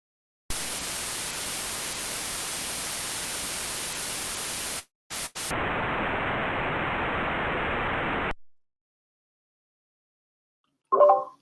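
Broadband static-like noise from a synth reading random numbers out of a buffer, a loud hiss that cuts out briefly, returns duller and narrower, then stops, followed by a short tonal blip.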